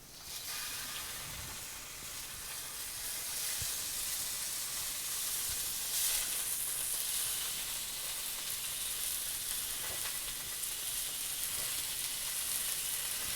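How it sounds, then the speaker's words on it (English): Boneless short ribs sear in a cast iron skillet, giving a continuous, close, hissing sizzle that stays strong and even throughout with occasional faint spatters. "Now we're ready to stick them in the cast iron skillet and sear them."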